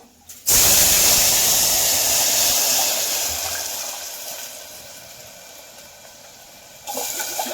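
A loud rushing splash of water poured into a pot, then a steady hiss that slowly fades, with a brief burst near the end.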